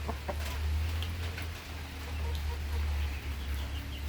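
Rhode Island and Brahma hens cluck softly in a farm setting, with scattered short clucks over a steady low hum and a faint background of other birds.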